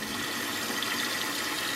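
Steady running water, cold from a tap, rinses potatoes in a bowl to wash out the starch while preparing curry goat and potatoes; a continuous gushing wash with no talk.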